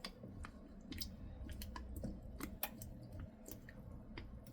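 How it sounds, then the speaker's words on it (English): A wooden spoon handle works around inside a glass jar packed with pears to free trapped air bubbles, making faint wet squishes, soft scrapes and small clicks in an irregular run, up close and quiet. "I'm gonna use a wooden spoon handle just to debubble"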